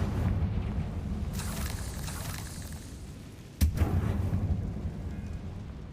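A Confringo fire-blast spell goes off in a video game as a single sharp explosive burst partway through, loud against a steady rumbling background, its boom trailing off into continued low roar.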